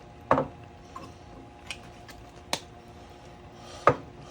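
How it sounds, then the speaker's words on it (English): Lid set down on a pot of three-meat chili, heard as a few sharp clanks and taps spaced across a few seconds, fairly close with a quiet room behind. "And then lastly, put the lid on there."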